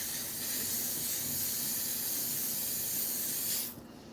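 L'Oreal 3-second setting mist is sprayed toward the face in one continuous, close hiss lasting about three and a half seconds, then cuts off into quiet.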